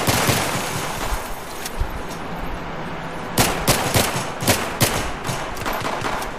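Gunfire in the video game Battlefield 3, sharp sporadic shots and short bursts cracking out at irregular intervals over a steady background rumble, some loud and close, others more distant.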